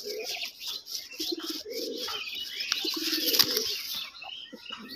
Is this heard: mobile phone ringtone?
no